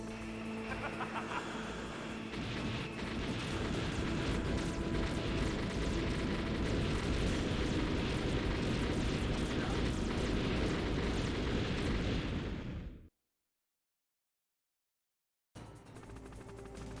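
Explosions and roaring noise from the Hind D helicopter battle in the PlayStation game Metal Gear Solid form a dense, steady rumble for about twelve seconds, cut off by a brief silence before the din resumes.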